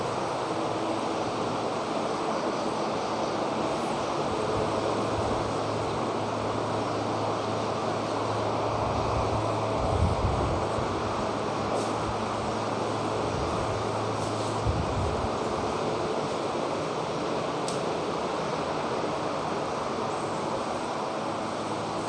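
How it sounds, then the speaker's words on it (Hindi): An electric fan runs steadily in a room, giving a constant broadband whooshing hum with a low drone underneath, with no speech. "थोड़ा फैन बंद कर देता हूँ, आवाज़ आ रही होगी आप लोगों को।"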